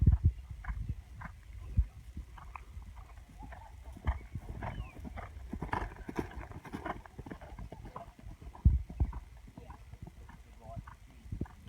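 A horse canters in a riding lesson, its hooves making rhythmic muffled thuds at moderate distance while an instructor talks over them.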